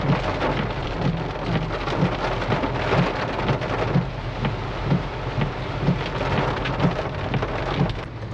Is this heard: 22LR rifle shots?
no